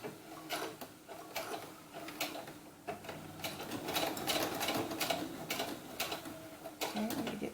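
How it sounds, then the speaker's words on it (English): A sewing machine stitches over lace while making short doll knickers, giving a rapid mechanical run of needle clatter in repeated bursts with short pauses between them, close and moderately quiet with no speech. "let me go back to my regular stitching, and we're going to go over the lace and everything"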